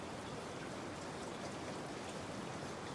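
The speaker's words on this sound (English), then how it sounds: "Rain hammered my apartment windows like accusations" Rain beats steadily against apartment windows, a dense, even hiss of drops with no breaks, loud and close, with nobody speaking.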